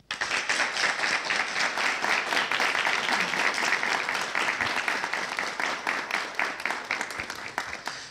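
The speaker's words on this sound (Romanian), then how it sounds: "Din tot sufletul, aplauze." Sustained applause from an audience at a rural folk song and storytelling event in Cordăreni, dense steady clapping that fills the whole stretch and tapers slightly toward the end.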